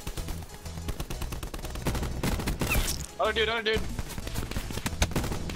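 Gunfire in the Blackout video game, rapid bursts of shots crackling over a noisy mix, with players talking and a voice briefly speaking over the shooting.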